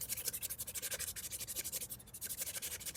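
A cymbal's outer edge, being repaired after cracks, is worked by hand with 320 grit sandpaper in quick, rhythmic back-and-forth strokes, close and fairly quiet, with no talking.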